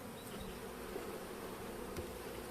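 Bees hum steadily on a hive frame in a weak colony being wintered, a dense close buzz that holds at moderate loudness throughout.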